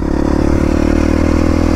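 Dirt bike engine running with the clutch pulled in, a steady loud whine with rough mechanical clatter throughout, close and continuous with no pauses.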